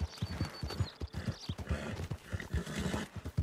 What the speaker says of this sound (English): My horse got stuck.